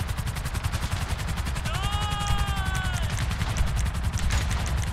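Rapid bursts of video game gunfire crackle in a steady, dense rhythm across the whole stretch, loud and near, with a brief tonal whine rising over it partway through and no voices.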